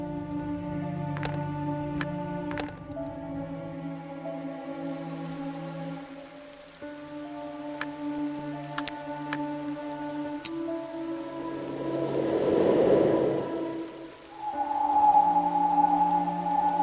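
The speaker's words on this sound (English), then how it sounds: "Has the rain stopped?" Steady rain patters throughout over a bed of layered tonal music in the video game Mystery Detective Adventure, with a brief swell of heavier rainfall near the end.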